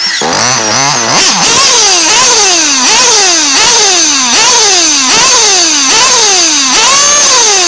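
A small engine, just after its carburetor mixture was richened, revs up and falls back in a steady repeating cycle of about one surge per second, loud and close, with no talking.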